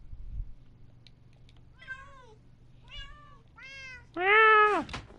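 A cat meows several times indoors, short mews spaced apart, then a louder, drawn-out meow at the end against a quiet background.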